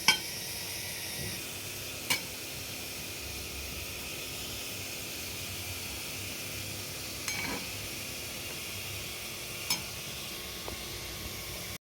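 A spoon stirs a dry curry of fire-charred plantain with ginger in a pan, giving a soft continuous sizzle broken by a few sharp clinks against the metal.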